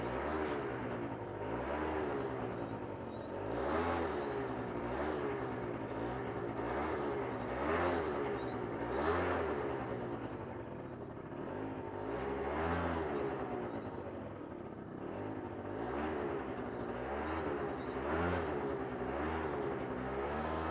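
A scooter engine ridden by a learner on a slow-speed practice course revs up and down repeatedly with too much throttle, a nearby whirring drone whose pitch rises and falls in repeated swells for about twenty seconds.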